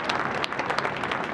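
An audience claps together in a dense, steady burst of applause at a horsemanship demonstration featuring a lead horse, with no speech over it.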